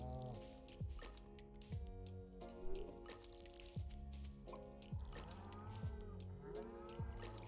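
Soft, repeated watering splashes from crops being watered in Stardew Valley, each a short burst of trickling water over cheerful background music, recurring roughly once a second at a low level.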